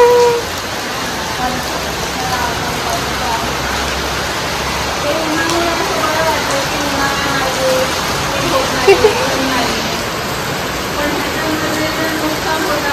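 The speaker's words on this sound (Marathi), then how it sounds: "बापरे इथे किती पाऊस पडतोय" Heavy rain pours down in a loud, constant roar, with faint voices and a brief knock briefly breaking through near the end.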